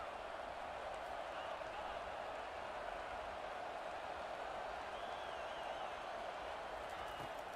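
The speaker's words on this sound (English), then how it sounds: "this crowd coming to life here, trying to help the defense get a stop" Steady roar of a stadium crowd in an American football video game, a broad continuous wash of cheering and noise that holds level throughout without distinct peaks.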